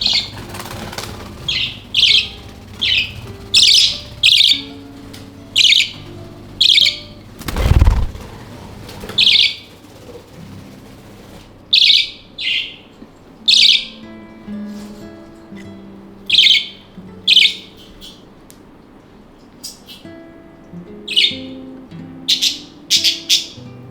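Young hand-fed budgies in an aviary: repeated bursts of wing flapping as they take short flights, along with scattered chirps and one louder knock, all close and clear with no talking.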